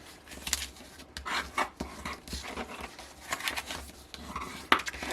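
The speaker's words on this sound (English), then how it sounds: "Okay, so I'm just burnishing everything." Paper box folds being burnished by hand, a run of intermittent scraping and rubbing strokes with a few sharper taps and crinkles, close and moderately loud with no talking.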